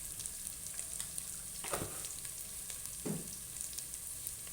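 Taro pieces fry in a pan with a soft, continuous sizzle, interrupted twice by brief stirring scrapes, heard close and fairly quiet.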